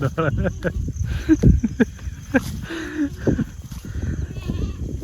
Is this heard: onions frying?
no